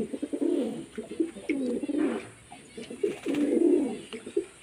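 A few pigeons in a mostly empty loft coo in repeated soft, rolling bursts with brief pauses between them, close by and fairly quiet.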